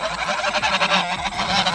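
Geese honk loudly and continuously at close range on a Christmas tree farm, their harsh repeated calls overlapping with a few duck-like quacks in the flock.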